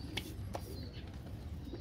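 A pigeon gives soft, low cooing notes in short repeated bursts, fairly faint against steady background noise.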